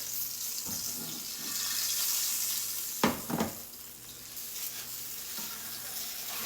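Beef roast searing in a pot for a crockpot roast, giving a steady, moderately loud sizzle throughout with a couple of brief clatters partway through.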